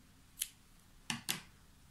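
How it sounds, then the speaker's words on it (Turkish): Scissors snip crochet yarn while a flower motif is being made, three quick quiet cuts up close, one alone and then two in fast succession. "Bir zincir çekiyorum ve ipimi kesiyorum."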